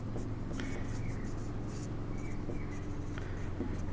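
Faint scratching strokes of writing on a board in a physics lecture hall, soft and intermittent beneath a low steady room hum.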